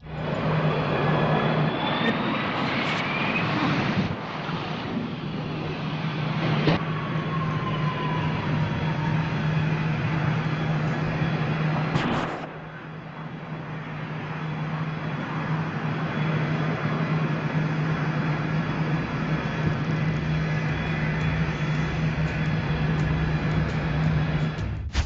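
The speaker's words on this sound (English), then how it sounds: "The plane continues making its way down the runway with flames spewing out of the underside." A burning Harrier fighter jet rolling down a runway, a sustained loud roar and rumble with whining tones, a couple of sharp bangs around the middle, then the steady rumble continuing alone.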